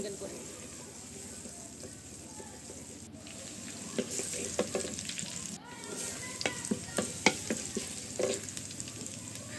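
Dried chillies, onion and garlic fry together in a pan, a steady close sizzle with stirring scrapes and clatters growing busier toward the end.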